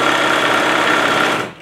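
Sewing machine stitching fabric for a Valentine's Day bag, a steady close whirring run of rapid needle strokes that slows and stops at the end.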